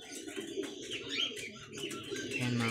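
Pigeons coo in a loft, soft throaty calls repeating close by over light chirps and faint background rustle.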